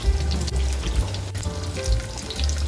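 Water added to a pan of carbonara pasta cooking in bacon fat, giving a loud, continuous sizzling and bubbling hiss close up, with no talking.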